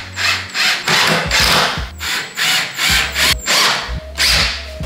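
A power drill drives screws into a wooden strip while assembling a gaming desk setup, in short repeated bursts of whirring with brief pauses between, close and fairly loud.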